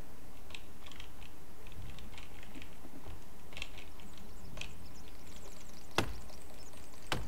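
Rapid clicks and clacks from a computer keyboard patter irregularly in a room during a gaming session, with one louder sharp keystroke near the end and no talk.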